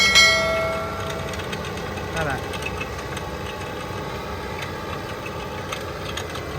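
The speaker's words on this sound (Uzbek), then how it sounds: "Mana traktor" A tractor sprays pesticide over a corn field, its engine droning steadily at mid distance while someone talks over it outdoors.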